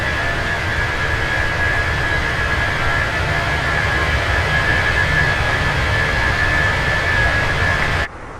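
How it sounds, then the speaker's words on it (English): Steady, loud roar of an Airbus A320 jet engine heard from outside in a flight simulator game, a constant broadband rush with a thin high whine, cutting off abruptly at the end. "I must say that plane is quite loud on the outside"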